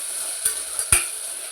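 Onion and tomato fry in oil for pav bhaji, a soft steady sizzle broken by two sharp knocks of a spoon against the pan, close and clear with no talking.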